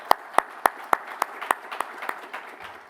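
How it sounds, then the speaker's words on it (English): Audience applause at a conference opening session, a run of sharp, evenly spaced claps that thin out and fade over about three seconds. "I would like to ask you if we can give a round of applause for their work"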